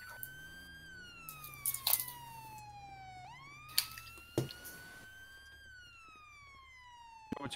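A police siren wails, sweeping slowly up and down in pitch, with a few sharp bangs and knocks in the foreground.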